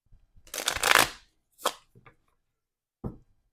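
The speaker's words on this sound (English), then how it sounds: "One more shuffle, just because these cards are kind of different." Tucano playing cards being shuffled by hand, a dense riffling burst followed by two shorter snaps of the deck, close and alone with no talking.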